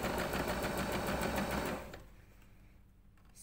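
A sewing machine runs a fast, steady stitch close by, sewing a zip into a fabric pencil case, then stops abruptly after about two seconds, leaving quiet room noise.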